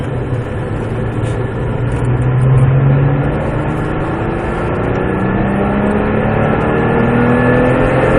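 A Porsche 997 GT3 with an aero kit accelerates on the Mettet track, its engine note climbing steadily and loudly through the gears over constant road and wind roar.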